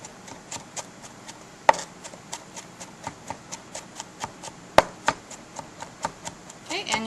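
A kitchen knife rapidly minces garlic on a cutting board for bruschetta, producing a steady run of close, crisp chopping taps with two louder knocks among them.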